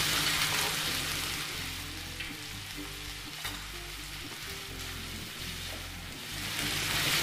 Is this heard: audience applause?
no